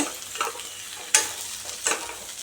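Okra sautéing in a pan for a tangy tamarind curry, a soft steady sizzle broken by a few sharp scrapes and stirring clatters, close and alone.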